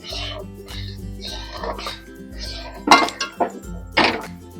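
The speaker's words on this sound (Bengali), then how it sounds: "ভালো করে আমি সুজিটাকে নাড়িয়ে একটা ডো তৈরি করে নেব।" Semolina is stirred into boiling water to form a dough, with scraping and clinking of a spoon against the pan in short uneven bursts, heard under someone talking.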